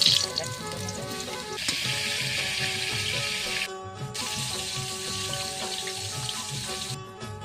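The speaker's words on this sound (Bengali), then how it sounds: "আলুটা দেখুন ভাজা হয়ে গেছে" Potatoes frying in a pan, a loud continuous close sizzle that breaks off briefly twice and then carries on.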